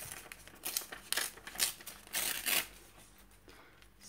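An old book page is torn along its edge in short, crisp rips and crinkles, close up and in several bursts separated by pauses, with no talking over it.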